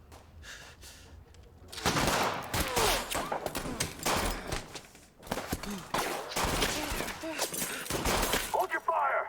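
Dense bursts of gunfire and shattering in As Dusk Falls, loud and near, rattling almost nonstop after a quiet opening, with a voice shouting over it.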